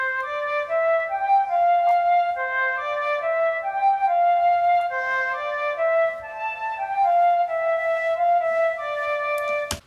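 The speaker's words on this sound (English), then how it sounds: "I also added a melody in the flute, which sounds like this." Flute melody for medieval market music, played over a light waltzing piano, a clear lilting tune of held and stepping notes at moderate volume, alone without any speech.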